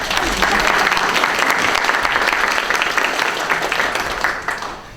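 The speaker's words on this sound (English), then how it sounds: "Round of applause" A loud, dense round of audience applause for a community concert band at a Memorial Day program, continuous and full for several seconds before tapering slightly at the end.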